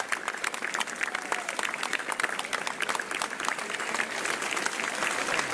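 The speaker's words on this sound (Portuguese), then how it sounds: "E são muitos os aplausos ao Presidente da República." A crowd at the 10 June national day ceremony in Madeira applauds the President of the Republic, dense continuous clapping that swells slightly toward the end, with faint voices underneath.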